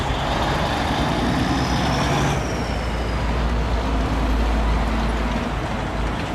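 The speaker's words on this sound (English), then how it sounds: "We got a lot of trucks coming to work on the hospital next door" Heavy trucks rolling past near a hospital construction site, a loud continuous engine rumble and roadway roar with a passing whine fading partway through.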